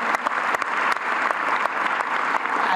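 Steady audience applause at a Hispanic Heritage breakfast celebration, dense clapping from a crowd filling the room, loud and continuous throughout with no talk over it.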